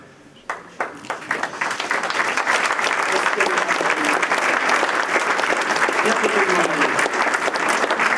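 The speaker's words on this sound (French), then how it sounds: "On peut l'applaudir très fort" Audience applause for a young tennis player at a mayor's New Year address, a few scattered claps swelling within two seconds into steady, loud, dense clapping from a large crowd that holds to the end.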